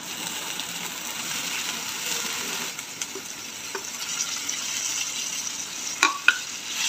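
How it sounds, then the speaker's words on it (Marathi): Bitter gourd being stirred into a spice masala with chopped tomato in a pan, giving a steady close sizzle with soft scraping stirs and a couple of sharper spatula knocks near the end, no voices. "छान प्रकारे फिरवून घेऊया।"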